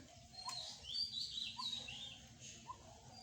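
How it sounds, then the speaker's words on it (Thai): A bird chirps repeatedly in a quick series of high, thin notes, moderately distant, over quiet outdoor ambience beneath a betel palm. "นกอะไรมาดูครับได้ยินแต่เสียง"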